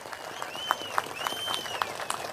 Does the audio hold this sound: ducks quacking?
no